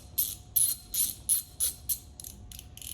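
A ratchet wrench snugs a bolt on an ABS sensor bracket of a Jeep JK/JL/JT superduty axle, giving about eight short, evenly spaced bursts of crisp clicking, close and clear with no talk.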